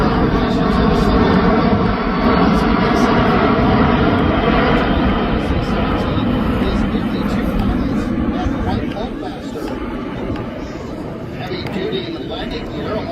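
A Global 3 aircraft flies over an airshow in London with a loud, broad jet roar that holds steady, then eases off about two-thirds of the way through. An announcer talks over it the whole time.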